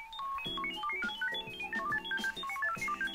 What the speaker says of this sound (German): mit diesem Ton soll das Passwort für das WLAN wohl irgendwie hier akustisch übertragen werden